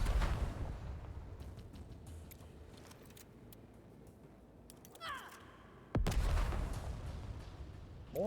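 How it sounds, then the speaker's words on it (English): In the video game Necromunda: Underhive Wars, homemade grenades explode in heavy booms, one opening the clip and another striking sharply near the end, with quieter clicks and rumbling in between. "let's try some homemade grenades"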